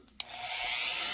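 A Dremel rotary tool on a very low setting grinds a turquoise stone, starting with a sharp tick and then a steady, bright, rasping whir that continues evenly and close by.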